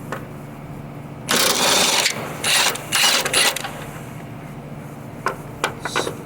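Ratchet with a swivel extension working a bolt loose on a Honda Odyssey during a timing belt job, bursts of rapid clicking in several short runs, fairly close, with faint taps afterward.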